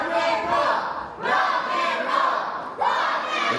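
A wrestling crowd at a live title match roars in repeated loud surges, with several swells of shouting and cheering rising and falling close by.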